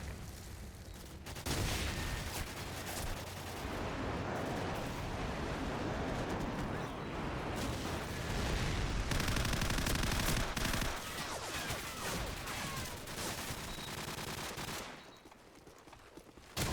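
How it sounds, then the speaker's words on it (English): Gunfire and airstrike explosions from an Xbox 360 military shooter: sustained loud bursts of rapid gunshots and rumbling blasts that run almost continuously, briefly dropping out a few times before a quieter tail. "Friendly airstrike on the way."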